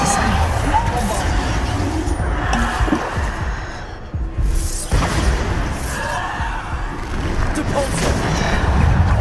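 Rapid Depulso and Bombarda spell blasts in a Hogwarts Legacy fight crack and boom almost nonstop, loud explosive impacts and shattering crashes over a thick rumble, with a voice talking underneath.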